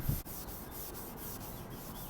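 Chrome on an original 1967 Porsche 911 wheel is being sanded by hand, producing a faint, steady scratchy rubbing that continues throughout with no voices.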